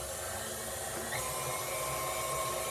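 Electric mixer whirring steadily as it beats chocolate orange cheesecake batter, a continuous close motor hum with no talking.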